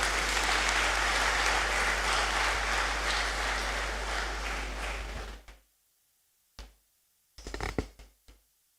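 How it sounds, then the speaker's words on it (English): Sustained applause from a seated audience at a university inaugural lecture ceremony, loud and steady for about five seconds before fading out, followed by a few brief scattered bursts of clapping. "A round of applause as she comes."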